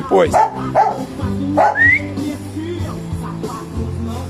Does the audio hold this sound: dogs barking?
yes